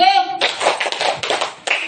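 A voice briefly sounds, then a group claps together in quick bursts of sharp, close hand claps following a loose rhythm.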